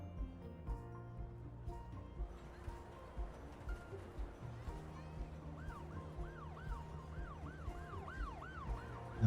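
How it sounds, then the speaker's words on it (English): Wailing ambulance sirens rise and fall repeatedly in a busy Cities Skylines 2 city, growing clearer in the second half over a steady bed of traffic and crowd murmur, with occasional soft tones and clicks. "Noisy city, lots of ambulances going through."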